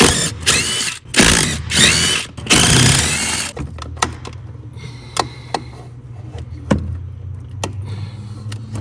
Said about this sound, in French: il y en a 2 autres à dévisser pour enlever l'affaire que je viens de vider